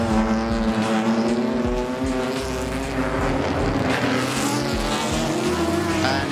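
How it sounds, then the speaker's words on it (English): Historic Jaguar E-Type race cars roar past at Goodwood's members meeting, their straight-six engines giving a loud, sustained snarl with rising and falling pitch as several cars pass close in succession. "In second place, another Jaguar E-Type, and it's John Minshaw will be handing over"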